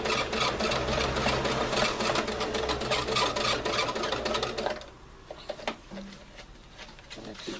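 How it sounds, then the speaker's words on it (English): A sewing machine runs continuously and close by for about five seconds, backstitching a pocket, then stops and leaves quieter handling sounds. "I'm going to go slowly and backstitch so that it's secure, and try to go down as straight as possible"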